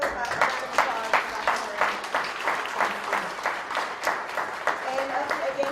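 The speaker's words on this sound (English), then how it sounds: "Can we get a round of applause?" An audience at a cannabis education event applauds steadily for several seconds, a dense wash of clapping from many hands with no voices standing out.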